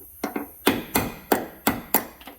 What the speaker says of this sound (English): we're going to drive out the old brass bushing, because we have new ones that are going to go in place